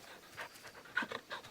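Dog panting in the video game Final Fantasy XVI, a quick rhythmic run of breathy huffs, faint and close, with no talk over it.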